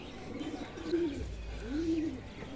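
A pigeon on a rooftop perches at the front of its coop, giving two soft, low coos, faint against a quiet outdoor background with no talking.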